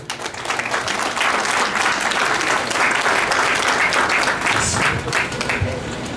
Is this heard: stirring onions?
no